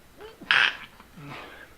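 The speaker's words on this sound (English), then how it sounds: "I think a sneeze is coming." A single sneeze bursts out about midway, brief and close, with a quick breath before it and some faint movement noise after.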